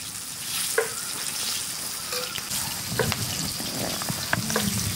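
Chopped ingredients fry in mustard oil while ginger paste is added and stirred. The steady crackling sizzle runs close and continuous, with scattered clinks and scrapes from stirring, and no voices.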